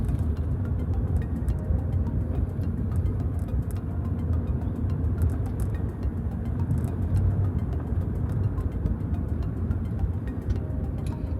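A car drives along Brooklyn streets during a driving lesson. Steady engine hum and road rumble are heard from inside the cabin, holding an even level throughout with no speech.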